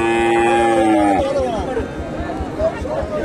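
Friesian bull calves moo loudly and close at a cattle market in Bogura, one long drawn-out call followed by lower, rougher lowing over a steady background of crowd chatter and voices.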